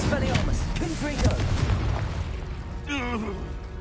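Spells cast in Hogwarts Legacy, including summoning, fire, disarming and blasting charms, make booming bursts and crackling magical impacts in quick succession, with a spoken incantation between the effects.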